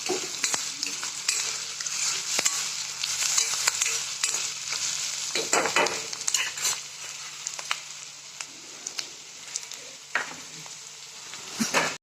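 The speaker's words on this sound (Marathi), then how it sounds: "तिच्यात खोबरा भाजते खोबरं भाजल्यानंतर शेंगदाण्याचं खूप टाकते दोन चमचे" Coconut and peanuts dry-roasting in an iron pan, a continuous crackling sizzle, with a spoon scraping and stirring against the metal now and then, close and fairly loud.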